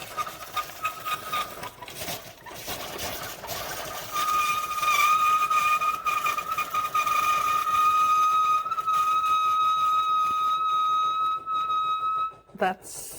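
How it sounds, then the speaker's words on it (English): A home coffee maker brewing pod coffee hisses and whistles with steam, rising to a steady high-pitched tone, then ends in a brief gurgle. People talk quietly over it. "Yes, that is the coffee maker."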